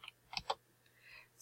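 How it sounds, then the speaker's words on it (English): Computer keyboard typing, a few quiet, close keystrokes clustered together in a brief burst, followed by near silence. "Let's say that I'm typing more."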